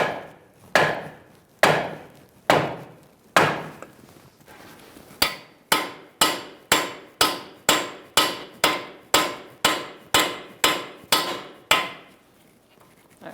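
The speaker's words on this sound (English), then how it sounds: "Use a piece of wood and a sledgehammer after you put your nut on that stud." A sledgehammer strikes a piece of wood set over the nut on a front strut stud of a 2000-2007 Ford Taurus, a few spaced blows then a long run of rapid, regular sharp knocks, close and loud.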